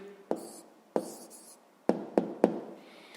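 Pen writing down a math answer on paper: a few short scratchy strokes and sharp taps spaced irregularly, close and quiet with no talk.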